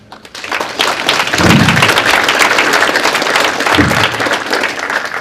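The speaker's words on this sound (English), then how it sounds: "That was a golf clap one." Polite golf-clap applause from a lecture audience, a steady wash of many hands clapping that carries on for several seconds, moderately loud, with a couple of low thumps.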